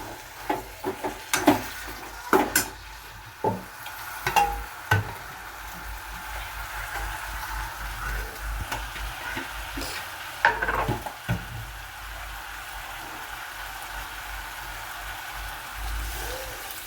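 Spices frying for a chapati kurma crackle and sizzle steadily in a pan, with a few sharp scraping knocks of stirring early on, then a continuous hiss.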